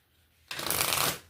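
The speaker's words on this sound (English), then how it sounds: "And now I shuffle and then we'll see who jumps out." A deck of tarot-style cards being shuffled by hand after a quiet moment, a dense riffling burst lasting under a second, close and crisp with no talk over it.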